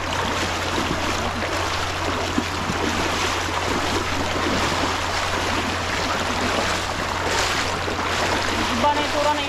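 A strong river current rushes in a steady, dense wash of water that holds without pause, with a low constant engine hum underneath.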